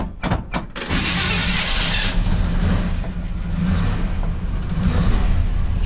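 The engine of a car over 60 years old cranks with a few sharp bursts, catches, then runs with a loud, rough, uneven idle up close.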